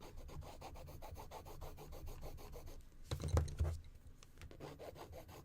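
Watercolor pencil rubbing across paper in quick, steady overlapping strokes, a faint close scratchy texture repeating evenly throughout, with one slightly louder scrape midway and no speech.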